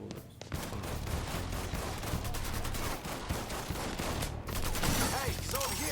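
Rapid gunfire rattles through a shootout in the Mafia game, with continuous loud shots and bursts close by, and voices shout briefly beneath the firing.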